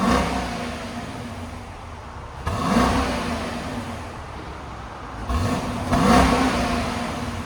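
2025 Dodge Durango R/T with a 5.7L HEMI V8 on the stock exhaust, revved loud and near in two swelling blips over a steady idle rumble.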